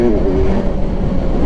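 Kawasaki Ninja 1000 SX motorcycle engine idling or running steadily up close, a continuous low rumble with faint tonal hum, no talking.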